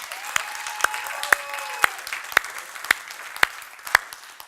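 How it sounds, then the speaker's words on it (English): Audience applause at a marketing mastermind seminar, with sharp, evenly spaced loud claps punching through a softer bed of crowd clapping and a faint tonal hum in the room. "Let's give a round of applause for Chris and Susan Beasley this morning"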